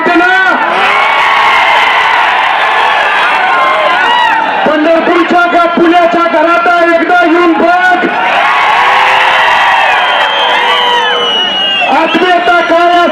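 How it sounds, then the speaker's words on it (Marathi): A huge political rally crowd in Pandharpur cheering, whooping and chanting together, loud and continuous, with rhythmic rising chants repeating throughout. "पंढरपूरची तुला गर्दी बघायची"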